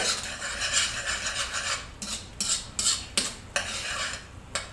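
A maple syrup garlic sauce cooks down in a pan with a steady bubbling sizzle, broken by several sharp scraping strokes of a utensil stirring against the pan, close and fairly loud.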